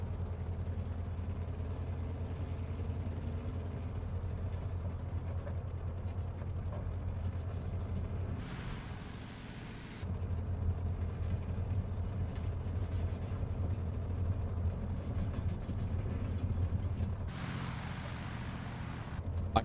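Other aircraft engines in Microsoft Flight Simulator, with many planes around, drone steadily and continuously, a low rumbling hum with a brief dip partway through and no talk.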